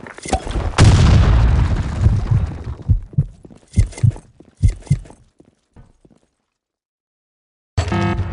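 Grenade explosion in a capture-the-flag video game, a sudden heavy boom with a rumbling decay followed by a series of thudding impacts, then silence before another burst of sound.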